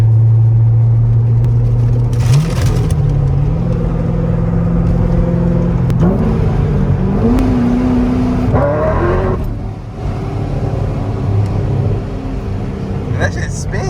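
A 2007 supercharged C6 Corvette engine roars loud and close from inside the car, its pitch climbing through several gear changes as it accelerates hard, then settling to a lower rumble.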